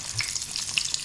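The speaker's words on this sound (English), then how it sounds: "You're supposed to deep fry this, but I'm not deep frying again." Food shallow-frying in oil on medium heat in a home kitchen, a brief soft crackle and sizzle, close and steady.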